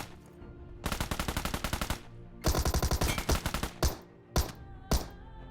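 Automatic gunfire rattles in rapid bursts in a PUBG match, with a long string of evenly spaced shots, a dense second volley, then several short isolated bursts, loud and close.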